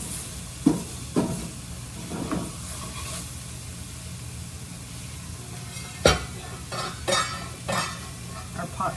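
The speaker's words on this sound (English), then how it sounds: "we're just gonna saute our veggies to get them soft" Vegetables sautéing in a pot for a turkey and sausage gumbo, a soft steady sizzle broken by several louder stirring scrapes and clatters spread across the clip.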